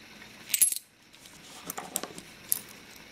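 Foreign metal coins, including Portuguese and Icelandic pieces, clink and jingle softly as they are handled in a quick cluster, followed by a few lighter taps and one bright ring, with no talk.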